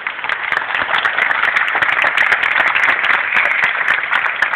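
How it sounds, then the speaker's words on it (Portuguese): A show audience claps along in a quick, even rhythm, sharp individual hand claps forming a steady, loud pulse with no break. "Vamos bater palmas mesmo"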